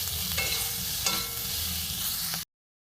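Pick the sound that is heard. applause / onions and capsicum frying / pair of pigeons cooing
onions and capsicum frying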